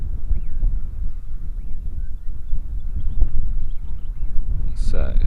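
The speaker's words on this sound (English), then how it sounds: "It's a shame the wind's coming up again." Wind blows across an outdoor nature setting as a constant low rumbling buffet, with faint chirping bird calls scattered through it.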